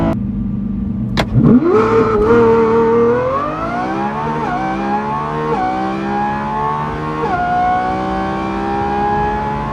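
A Lamborghini Revuelto launches down a quarter-mile drag strip, its engine roaring up through a rising pitch with distinct gear shifts, loud and continuous for nearly ten seconds.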